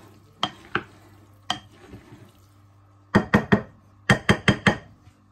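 Kefta is mixed with tomatoes by hand or spoon, giving sharp wet slaps and squelches in scattered single hits, then quick bursts of three and four, close and alone against a faint hum.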